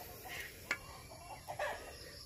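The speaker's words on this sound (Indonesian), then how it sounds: "Okay, ni ayam." Backyard chickens make a few soft, brief clucks, fairly faint against steady outdoor background noise, with no one talking.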